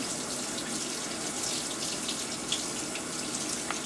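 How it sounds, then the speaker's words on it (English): Makeup brushes are rinsed under a steady running tap, the water hissing and splashing continuously into a sink at close range, with no talking. "you want to rinse it until the water gets clear"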